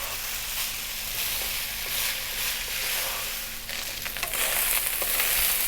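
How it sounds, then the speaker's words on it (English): Beef fried rice sizzling in a hot pan, a loud continuous frying hiss with occasional stirring scrapes, close up. "Now we're going to fry our rice for about 5 minutes or so."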